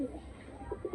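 Pigeons at a rooftop loft while being flown, giving soft low coos in a short burst, faint and a little distant, as someone speaks nearby.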